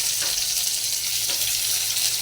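Chopped onion dropped into hot oil already tempered with panch phoron, bay leaf and cumin, sizzling loudly and steadily up close, with faint stirring touches and no voices.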